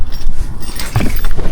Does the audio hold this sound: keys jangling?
yes